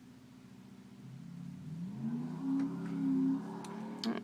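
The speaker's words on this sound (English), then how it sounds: "Sorry if you can hear that car outside." A car passes outside a room, its engine rising from a low hum to a louder mid-range drone and then fading, heard faintly behind the quiet of an indoor space.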